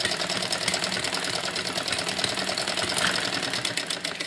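Sewing machine running a pressed-down edge stitch around a heavy suit, a continuous fast mechanical whirring with steady needle chatter, close and alone without talk.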